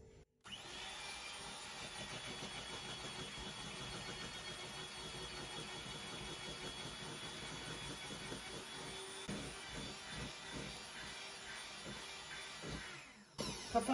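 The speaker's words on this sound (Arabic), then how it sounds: "كوب سكر، بخفقن على سرعة عالية." Electric mixer whipping a batter with a cup of sugar at high speed for a chocolate Nutella cake, a steady loud motor whir running continuously for over twelve seconds before cutting off.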